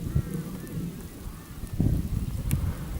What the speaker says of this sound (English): That's roughly the southern end of that storm front coming through.